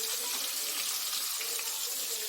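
Water from a kitchen tap runs steadily while fish is washed, a loud, constant splashing rush with no pauses and no voices.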